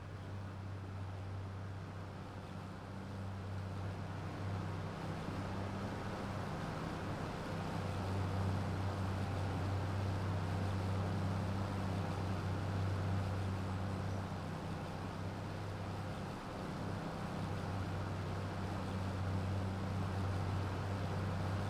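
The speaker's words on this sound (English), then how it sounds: "I love using this tractor. It sounds good." A steady, low tractor engine drone in Farming Simulator 25 runs throughout at an even, constant level, with no talking over it.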